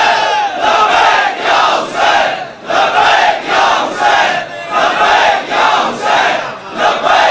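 A large crowd at a Shia majlis chants Labbaik ya Hussain in loud unison, a rhythmic repeated chant rising and falling in about seven regular bursts, close and forceful.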